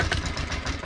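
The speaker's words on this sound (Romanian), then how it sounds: "I-am dat drumul la manetă și pur și simplu motorul încă funcționează" Engine of a Ferrari 338 tiller (motocultor) running in a polytunnel with the gearbox disengaged, a steady close mid-pitched idle hum with slight pulsing and no voices.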